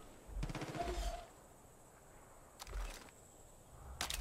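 Pistol fire in Far Cry 5, two short bursts of rapid sharp reports separated by a quiet gap, fairly faint and distant, with another shot starting right at the end.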